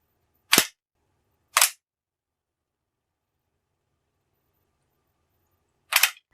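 Three sharp, close metallic clacks from working the bolt action of a reassembled RTI Mannlicher 1888/90 rifle: two about a second apart, then a longer pause before a third, with silence between.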